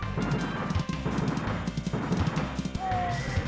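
Horse hooves gallop in the Sunset Riders SNES game, a rapid clip-clop rhythm running continuously under busy game music and effects, with a brief whinny-like tone near the end.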